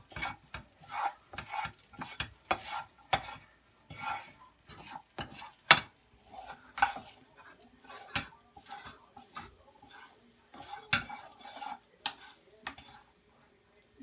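Fried rice being stirred in a pan, with repeated scraping and clinking strokes in an uneven rhythm, close and moderately loud, with a faint sizzle underneath.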